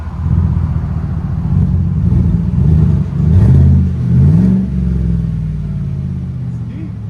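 A 2019 Chevy Tahoe with a 5.3L V8 and a Flowmaster Super 10 exhaust revs close by: a deep steady idle rumble surges twice in rising blips before settling back to a loud burble.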